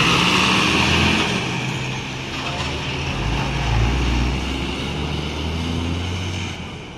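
An Epastar executive bus pulls out of the Muara Bungo bus terminal bound for Palembang, its low diesel engine rumbling steadily with faint background terminal noise.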